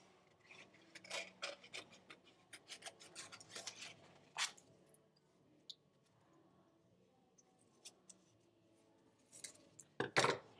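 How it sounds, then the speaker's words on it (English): Scissors snipping paper along a fish-shaped template for a collage, a series of quiet, close, irregular cuts and rasps with pauses between, ending in a couple of sharper snips. "So I'm just going to cut along the bottom of the fish using my template to help guide me."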